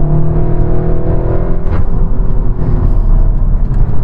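A Seat Cupra Black Carbon rated at 400 hp, fitted with exhaust upgrades, drones steadily as it accelerates along a straight. The engine note is loud, continuous and close, with no talking over it.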